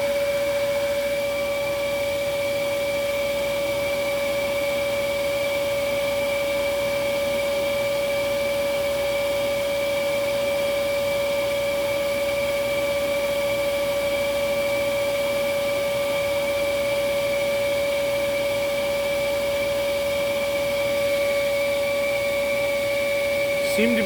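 A Dyson DC11 vacuum cleaner running steadily, a loud continuous whooshing roar with a high motor whine that holds even throughout, close up with no pauses.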